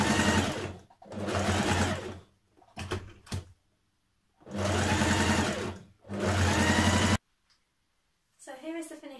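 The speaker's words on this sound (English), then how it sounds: "I'm just going to give that a small hem now." A sewing machine stitching a small hem along the overlocked bottom edge of a dress, running in several bursts of steady whirring separated by short pauses, close and clear.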